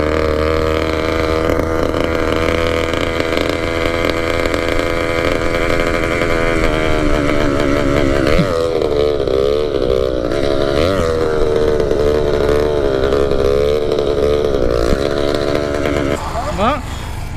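An 80cc motorized bicycle engine revs continuously on a trail ride, loud and close throughout, its buzzing note rising and falling with the throttle, with a brief dip and rev change near the end.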